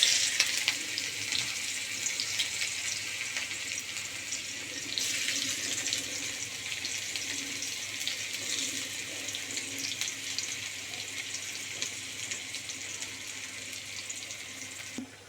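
Chopped onion fries in hot oil with dried chillies, cloves, cinnamon and cardamom, giving a continuous, even, close sizzle that hisses steadily throughout with no speech.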